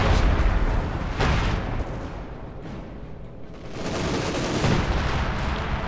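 Company of Heroes 2 battle, with dense gunfire and grenade blasts: loud, continuous crackling shots and booming explosions, a heavy burst at the start and another surge near the end.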